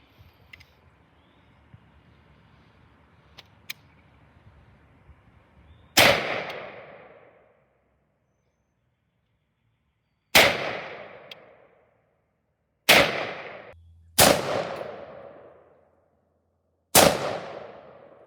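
Five loud, sharp gunshots fired at a target through a 1-to-5 magnified sight, spaced several seconds apart, each cracking and then fading out, after quiet handling noises.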